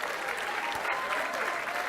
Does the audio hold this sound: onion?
no